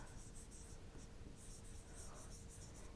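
Pen or marker strokes on a surface in short scratchy bursts with brief pauses, steady and fairly quiet against a faint hum, with no one talking.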